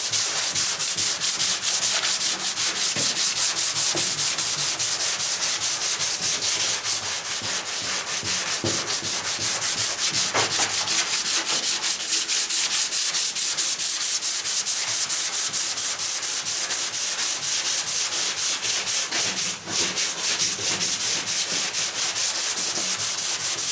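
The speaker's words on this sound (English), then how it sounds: "seems to be sanding pretty well." 220-grit paper on a semi-flexible block sands the body of a 1977 Camaro Z28, a continuous loud rasping scrub in steady back-and-forth strokes with no talking.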